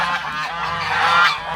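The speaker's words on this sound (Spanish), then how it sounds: "Es la primera vez que un ganso huye." A goose honking loudly and close by, in a continuous nasal, harsh call that stays strong throughout and swells toward the end, with no talk, outdoors in the Dominican Republic.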